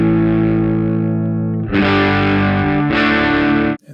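A distorted electric guitar played loud through a Utah speaker in a 1969 Fender Pro Reverb amp: a sustained, buzzing chord is followed by two heavier, brighter crunching strums, then stops abruptly.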